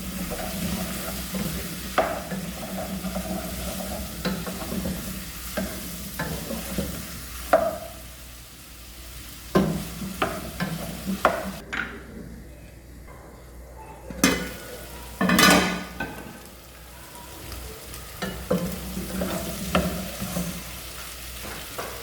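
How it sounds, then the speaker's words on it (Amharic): Onion and garlic frying in a pot for chicken soup, a steady close sizzle with stirring scrapes and occasional clinks of a utensil against the pan, no talk. "ሽንኩርቱን ነጭ ሽንኩርቱን ትንሽዬ ጠብሰዋለሁ።"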